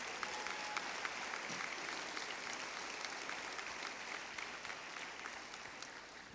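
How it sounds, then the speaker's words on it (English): A large audience at a college graduation ceremony gives a sustained round of applause, a thick, even clapping texture that fades slightly toward the end. "How about a big round of applause for the trustees?"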